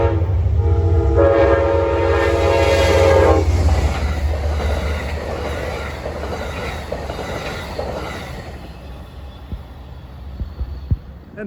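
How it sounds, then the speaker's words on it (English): Westbound Amtrak train 281, bound from New York to Niagara Falls, passes close and loud with a sounding horn early on, then a steady rumble of wagons and clacking wheels that slowly fades. "passing at 141 was Amtrak train 281, en route from New York to Niagara Falls, New York"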